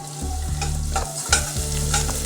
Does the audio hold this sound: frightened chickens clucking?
no